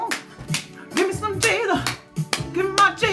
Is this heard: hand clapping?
yes